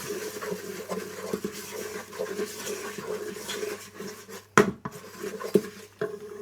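Chickpeas and potatoes being stirred with salt in a pot for kala chana aloo, a close, continuous scraping and rustling with spoon knocks against the pot and one sharper clatter near the end.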